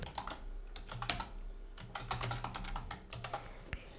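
Close typing on a computer keyboard while entering a Discord poll question, a busy run of quick key clicks in uneven bursts with short pauses.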